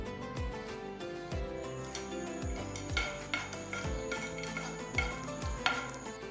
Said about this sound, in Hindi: अब इसमें बारीक कटे हुए पिस्ता बादाम डाल देंगे और इनको भी चंद सेकंड्स के लिए घी में फ्राई कर लेंगे।